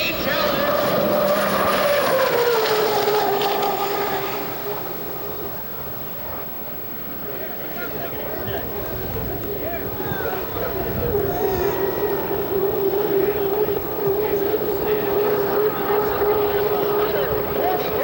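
An unlimited hydroplane race boat roars along a racecourse straightaway in Miami, its loud, sustained engine pitch sweeping down and then holding steady as it passes, under continuous commentary from an announcer.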